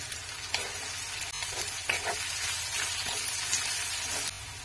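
Peanuts and onion roasting in a pan for a spicy stuffed brinjal curry, a steady close sizzle with occasional scraping stir clicks throughout.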